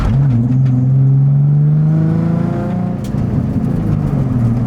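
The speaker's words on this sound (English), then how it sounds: "So there's like a downshift." A manual-transmission car engine revs loudly up and down close by, the pitch climbing and dropping through a downshift, with a brief dip before the revs pick up again.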